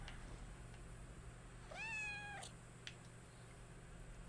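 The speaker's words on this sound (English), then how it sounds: "Wonderful cat noises." A cat meows once in the video game Kristala, a single clear rising-then-falling meow over a quiet low game hum, with a couple of faint clicks afterward.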